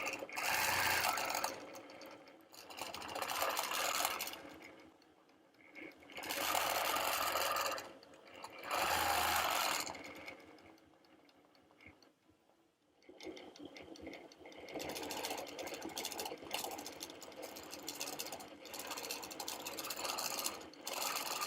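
Sewing machine quilting a feather border, close and steady rapid stitching in several bursts separated by short pauses, with softer intermittent running toward the end.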